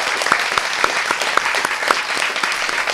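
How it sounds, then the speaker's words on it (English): A live audience at an interview event breaks into loud, sustained applause, dense continuous clapping with sharp individual claps popping out of the wash throughout. "if we can get a loving, loud round of applause for us and everybody."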